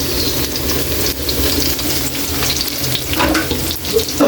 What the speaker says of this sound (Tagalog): Lagyan na natin yung bawang. Sama na rin natin kaili yung sibuyas.